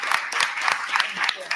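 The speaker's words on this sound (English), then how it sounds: "give a round of applause to all the employees for this village" Audience applause for village employees at a village board meeting, a steady wash of many hands clapping close and loud throughout.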